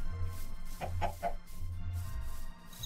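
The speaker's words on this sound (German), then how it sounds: "Ich glaube, das Huhn hat zurück angegriffen." A chicken in Minecraft gives three quick clucks, moderately close but soft, over a low background hum, with no talking.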